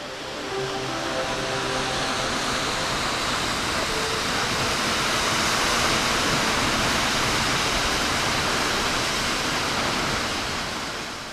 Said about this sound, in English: Iceland's greatest waterfalls are also the most important in Europe.